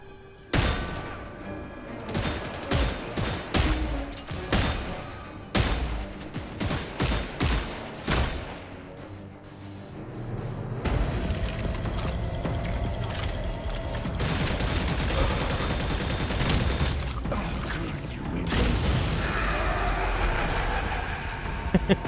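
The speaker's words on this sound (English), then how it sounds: "The flare gun burns them out." Shots in the Redfall shooter, a run of sharp loud reports at an uneven pace that give way to a long sustained rumbling burn, all close and without talk.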